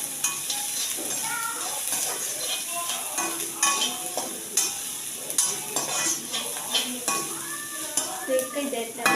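Dried chillies and spices roasting in hot oil in a pan fill the clip with a steady, close sizzle and crackle, while a utensil repeatedly stirs and clinks against the metal.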